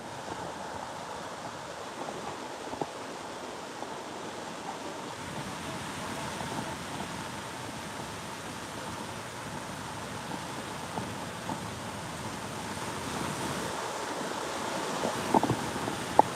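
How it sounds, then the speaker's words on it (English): Ocean waves breaking on the shore at Cocoa Beach, a continuous washing roar with wind buffeting the microphone, steady and fairly loud with no talk. "we'll give you guys a peek at the ocean real quick"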